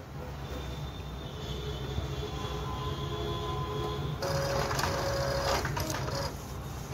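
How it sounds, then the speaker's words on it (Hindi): An Epson L3110 inkjet printer pulls in paper and prints, giving a steady mechanical whir with a rising motor whine and rhythmic carriage clatter that grows busier partway through, close and alone. "प्रिंट कर रहा है।"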